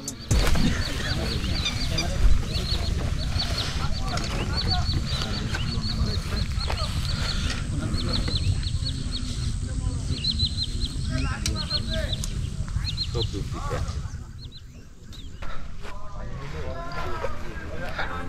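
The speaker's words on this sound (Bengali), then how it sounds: "এখানে পাখিদের কিচিরমিচির শব্দগুলো অসাধারণ। আপনাদের একটু শোনাই।" Birds chirping at Baikka Beel wetland, with steady bird calls over open-water ambience and occasional voices talking in the background throughout.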